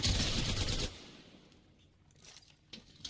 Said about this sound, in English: there they are. Shooting at me.